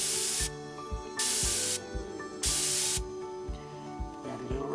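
An airbrush spraying paint while painting scroll work and highlights gives a steady, close hiss in repeated bursts, switching on and off in a regular rhythm over a low background hum.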